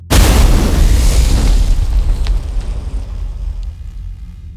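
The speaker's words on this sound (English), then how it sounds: "I was awoken by a loud bang." A loud bang from something colliding with a spaceship hits hard at the start, then rumbles and decays over several seconds into quiet.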